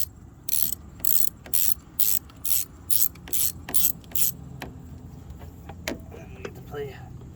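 A ratchet wrench tightens a center bolt in about a dozen quick, evenly spaced clicking strokes, close and crisp, followed by a few scattered knocks and faint mechanical sounds.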